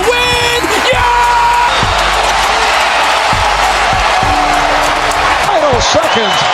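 A basketball arena crowd roars on its feet, a dense steady cheer with squeaking sneakers and a commentator talking over the noise.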